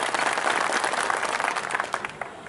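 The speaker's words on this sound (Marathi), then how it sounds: "आपल्या सर्वांनी जोरदारात टाळ्या वाजवा ही विनंती आहे" Dense crowd applause at a Congress party political rally in Deglur, a steady wash of many hands clapping that holds loud and then thins slightly toward the end.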